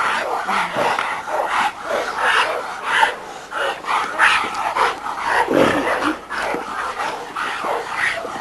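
Several dogs bark in a kennel yard, repeated loud yelps and barks layered into a dense, continuous din close by, with a brief voice heard among them.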